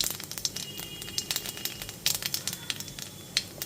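Black cumin seeds tempering in hot frying oil left over from frying pabda fish, giving a close, irregular crackle of sharp pops over a low, steady hiss, with no talking.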